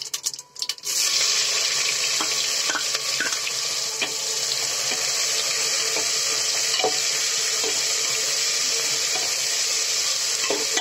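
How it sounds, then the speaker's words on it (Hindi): Onions dropped into hot crackling spiced oil, a brief clatter at the start, then a loud continuous sizzle with sharp pops and crackles for several seconds. "सारे मसाले अब चिटकने लगे हैं अब इसमें हम डालेंगे प्याज"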